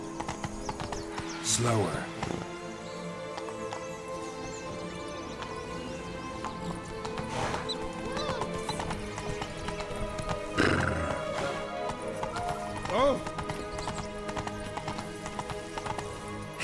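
A horse in The Witcher 3 video game, with rhythmic hoof clip-clops throughout and several loud neighs and whinnies rising above them, while characters talk briefly over the game sounds.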